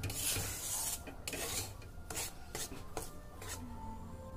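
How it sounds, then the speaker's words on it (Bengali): Rice flour is dry-roasted in a pan and stirred, making repeated scraping rasps of the spatula across the pan at a steady rhythm, close and fairly quiet, with no voices. "চালের গুঁড়োগুলোকে আমি আগে ভেজে নিচ্ছি"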